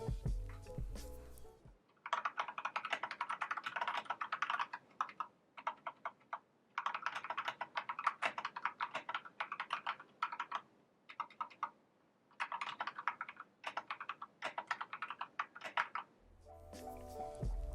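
Typing on an Epomaker mechanical keyboard, a steady run of crisp, close key clacks in bursts separated by short pauses, loud and without speech.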